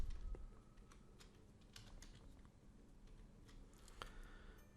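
Someone types on a computer keyboard with soft, uneven keystrokes, quiet and close over a low background hum.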